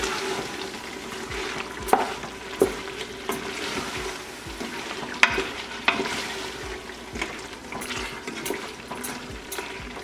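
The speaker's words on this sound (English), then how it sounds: "Now I'll add the meat back to the pressure cooker. This is the meat that we sauteed earlier. Give this also a good stir." Sautéed mutton being stirred in a pressure cooker for Hyderabadi dal gosht, with a steady soft sizzle and repeated scraping knocks of the spoon against the pot, close by and alone without talk.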